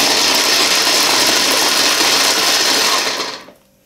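A Marta MT-2073 electric food chopper whirs at a steady high-pitched motor drone, close and loud, then winds down and stops near the end.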